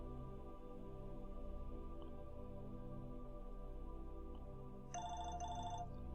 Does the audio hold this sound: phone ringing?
yes